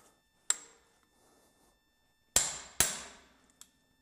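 A handheld hammer impact tool striking to loosen brake screws on a Chevy C50 truck: one sharp metallic hit, then two loud clanks close together and a lighter tap, with quiet between.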